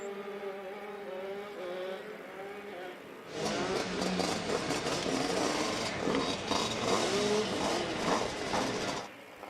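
Shifter karts at Adams Motorsports Park roar off together in a race, a dense, loud wall of revving engines that bursts in after a quieter idling stretch and holds steady before cutting off.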